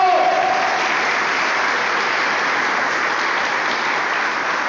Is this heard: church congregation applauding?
yes